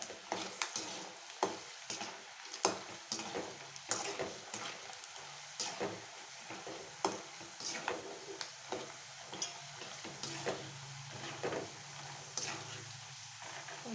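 Masala badugu mixture frying in a pan while being stirred, with a steady sizzle and repeated scraping strokes at a regular rhythm, close and fairly loud throughout, no talking.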